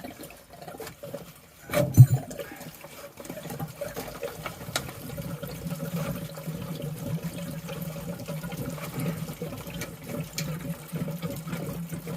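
Water draining from a domestic heating system with a faulty 3-port valve into a rubble sack, a steady low gushing trickle running continuously after a brief knock, fairly quiet and with no talk.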